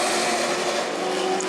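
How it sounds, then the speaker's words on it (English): A pro truck screams around the New Smyrna oval during qualifying, its engine note steady and loud with a high whine held throughout, sliding loose off the final turn, with no talk over it. "Truck number 41 looking pretty loose there off turn number 4."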